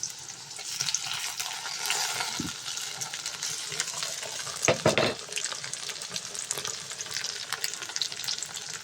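Onion and tomato sautéing in a pan for an okra stir-fry, a moderate steady sizzle with spatula scrapes and a clatter of utensil strikes partway through.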